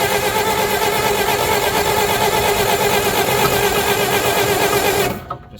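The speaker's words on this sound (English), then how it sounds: "Just popped through the carburetor." An old Bobcat engine cranks steadily with a dense, buzzing mechanical drone, loud and close, then abruptly cuts off near the end with a brief pop back through the carburetor.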